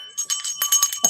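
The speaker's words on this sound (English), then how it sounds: "Just cover your face with it and ring the bell." A handheld bell rings in a rapid series of bright, shaking jingles, close and clear with a steady ringing tone under the strikes.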